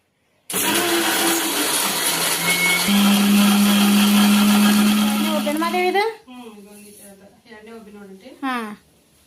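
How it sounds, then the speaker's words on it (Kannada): A mixer grinder whirs loudly and steadily for several seconds as it powders roasted spices for a North Karnataka masali khara, then stops and people talk. "ಮಿಕ್ಸಿಗೆ ಹಾಕಿ ಪೌಡ್ರ್ ಮಾಡ್ಕೋದನ್ನ"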